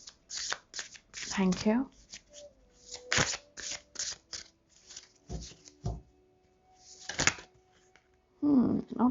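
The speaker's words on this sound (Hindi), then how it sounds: "कार्ड्स बड़े होते हैं इसलिए मैं शफलिंग इस तरीके से मुझे करना होता है" Large tarot cards shuffled by hand in a series of crisp, rustling bursts separated by short pauses, close and fairly loud, with someone briefly speaking between them.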